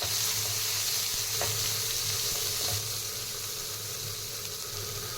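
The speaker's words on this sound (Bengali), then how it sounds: "এবার কেটে রাখা কাঁচা পেঁয়াজগুলো দিয়ে দেব" Chopped raw onions frying in hot oil with whole spices like cumin, bay leaf, dried chilli, cardamom, clove and cinnamon, giving a loud, steady sizzle up close with occasional stirring clinks, easing slightly toward the end.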